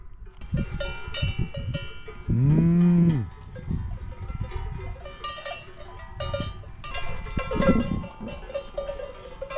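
Cows moo loudly nearby in a pasture in Ariège, one long low call standing out, while cowbells clank and jingle steadily throughout.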